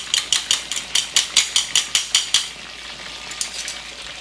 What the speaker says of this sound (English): we can simply wait for them to finish frying